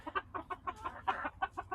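A friendly, calm backyard rooster clucks in a quick series of about ten short, close, clear clucks with a steady rhythm.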